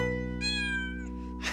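Cartoon cats meowing in a children's nursery-rhyme scene, a drawn-out high meow followed by a brief burst, set over a steady sustained musical tone, with no talking.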